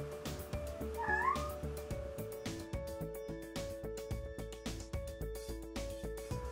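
A cat gives a single clear meow near the start, set over a steady backdrop of gentle tonal music with soft rhythmic beats.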